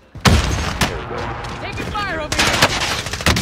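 Bursts of gunfire ring out in a first-person shooter video game, sharp repeated shots and short volleys alongside game effects, with a player talking over them.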